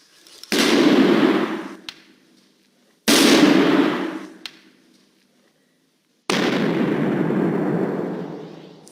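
Three hydrogen-filled balloons ignite and explode one after another, each a loud sharp bang followed by a roaring, fading burst, with a couple of seconds of near silence between them.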